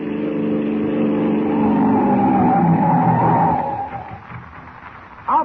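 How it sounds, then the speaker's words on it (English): A police car on a dark road approaches with a loud, sustained engine roar and tire noise, then skids and slows to a stop, the sound fading toward the end before a short sharp noise. "They crouch in the darkness as the car approaches."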